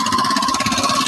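A Honda Grazia scooter engine runs at a steady hum while riding, with a fast pulsing rhythm and a sustained tone, close and fairly loud over a brief stretch.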